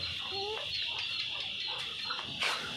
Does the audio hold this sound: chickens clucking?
yes